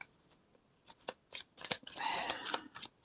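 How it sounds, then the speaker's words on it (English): Tarot cards are shuffled in quiet, irregular bursts of riffling and soft slaps, close and fairly faint, with brief pauses between handfuls. "That's just me being a bad shuffler."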